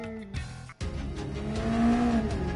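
A Mazda Miata in the Gran Turismo Sport racing game, engine droning and revving up with rising pitch after a brief cut, close and steady, with no talking.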